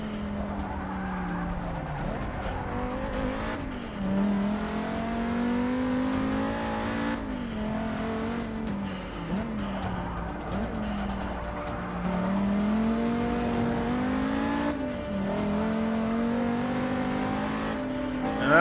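A race car engine in the video game Forza 6 drones continuously near the end of a lap, revving up and down through gear changes with rising whines and brief tire squeals, loud and close with no talking.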